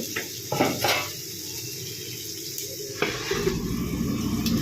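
Soft sizzling of potatoes frying in a pan, with a few clanks of utensils against metal and no talking.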